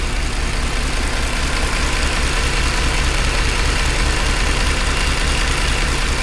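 A Mercedes C63 AMG with the M156 V8 engine idles steadily and slightly roughly, with a low, loud, pulsing rumble up close that holds unbroken throughout.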